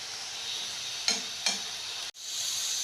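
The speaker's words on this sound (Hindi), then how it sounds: "इनको अब हमने हल्का सा फ्राई कर लेना है" Potatoes lightly frying in ghee, a steady close sizzle and hiss with two short clinks of a utensil and a brief cut before the frying noise resumes.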